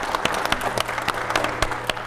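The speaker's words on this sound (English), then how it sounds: "I think we give them a round of applause." A smaller audience at a democracy-focused panel session claps for the panelists, a brief spell of distinct, fairly close handclaps in an uneven rhythm with a faint steady hum underneath.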